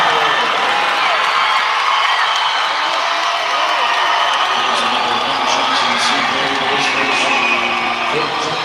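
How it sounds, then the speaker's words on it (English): Basketball fans in a loud gym crowd cheer and whoop nonstop after Ryan Quintero's go-ahead basket and one gives the Falcons their first lead, a dense, steady roar with shrill yells rising through it. "Fans go crazy as Ryan Quintero gives the Falcons their first lead of the afternoon"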